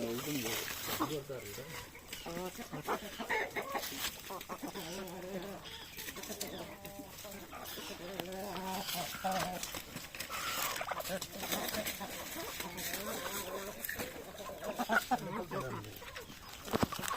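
Chickens and roosters cluck and call repeatedly close by at a temple food offering in Palani, mixed with people talking over a busy outdoor background.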